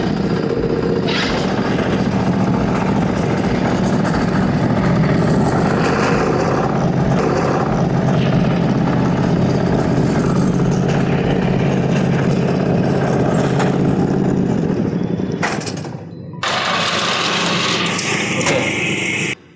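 FCT25 stubble mower engines run at high revs close by, a loud, sustained buzzing drone that holds steady, dips briefly near the end and then picks up again.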